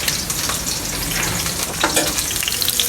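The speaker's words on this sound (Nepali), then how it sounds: "यहाँ कुकिङ चलिरहेको छ सुकुटी फ्राई अनि यो मसरुम फ्राई" Sukuti (dried meat) and mushrooms frying together in a pan, a steady close sizzle and crackle with occasional stirring scrapes, no talk over it.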